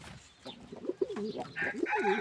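A flock of mostly white pigeons coos close by, with a run of repeated throaty, rolling calls that overlap and grow busier toward the end, and no talking.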